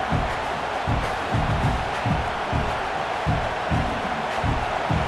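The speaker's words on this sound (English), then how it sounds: "this home crowd is fired up and ready to make a difference today" A home stadium crowd in a college football video game, Northwestern State at Nebraska, roars steadily in the background, a dense continuous swell with rhythmic pulsing chants, with no clear speech on top.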